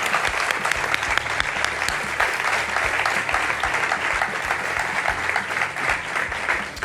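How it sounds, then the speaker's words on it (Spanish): Sustained audience applause at a live podcast recording, a dense, steady wash of many hands clapping close and loud throughout, with no voices above it. "También os voy a pedir un aplauso que se note que estáis ahí."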